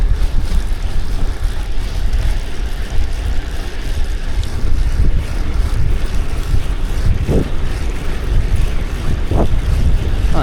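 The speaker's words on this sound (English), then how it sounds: "Oh, and there's a headwind as well." Headwind buffeting a cyclist riding laps in Prospect Park, Brooklyn, loud continuous wind rush across the microphone with a few sharper gusts near the end, no talk.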